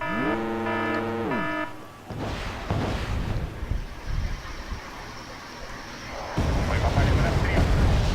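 A missile artillery barrage in the video game Wargame Red Dragon booms as a dense, rumbling roar of explosions, following a tonal sweep, loud and sustained with a heavier swell near the end, under a man's speech.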